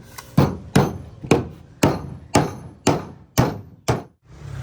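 Nails are driven into wood with a hammer while a small hut is being built, eight sharp, evenly spaced blows close by, each with a short ringing decay.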